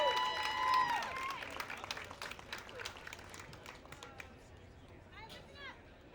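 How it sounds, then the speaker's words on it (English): Audience applause at the second annual "Waves of Change" fundraiser, honoring Allie. Clapping and crowd noise carry through the whole clip, with voices and a few whistles or cheers over it, and the applause slowly fades toward the end. "Round of applause for Allie."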